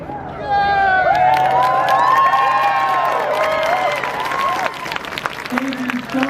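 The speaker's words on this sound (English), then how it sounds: "I'd love you to give a cheer" A crowd at a rally supporting LGBTQ2S+ students cheers, whoops and applauds loudly and continuously, with shouting voices rising over the clapping before it fades and a voice begins speaking.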